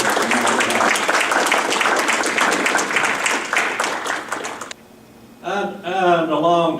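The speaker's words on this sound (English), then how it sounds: "I'd like for us to give those two people a hand of applause for their efforts." Audience applause at a military reunion banquet, a dense burst of many hands clapping for several seconds before fading, followed by a voice speaking.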